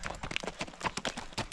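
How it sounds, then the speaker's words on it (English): A horse canters on a trail, its hooves clip-clopping in a quick, uneven three-beat rhythm, close and fairly loud. "Oh, she has a nice little canter."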